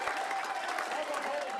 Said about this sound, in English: Passengers put down their carry-ons to clap for 21 grateful minutes.